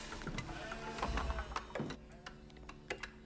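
Faint sheep bleats from a video game, a few short calls mixed with soft clicking of keyboard typing.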